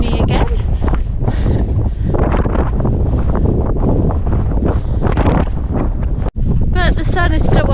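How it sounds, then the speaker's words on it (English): Strong wind buffets and roars across an open, boggy Lake District fell on a walk near Branstree and Selside Pike, loud gusty rumbling noise close to the microphone with a brief dropout near the end, and a person talks over it. "The wind has decided to rejoin me again."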